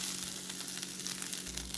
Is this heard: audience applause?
no